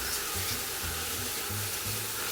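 A pork sauté with wholegrain mustard is stirred in a hot pan, giving a constant close sizzle with soft, uneven scraping strokes underneath and no speech.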